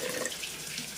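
Tap water runs into a jar of sourdough starter in a home kitchen, a steady close hiss of flowing water with no speech.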